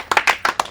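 Several people clap loudly at a memorial gathering in a few quick bursts of sharp hand claps, close and uneven, with no talking.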